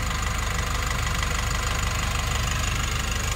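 A Nissan NV350 van engine idles with a steady, dense rumble and a strong, even vibration pulse, close and continuous with no talk.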